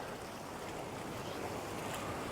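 Sea surf along the shore in Puerto Rico, a steady broadband wash of waves with wind noise, continuous and moderately quiet, with no voices.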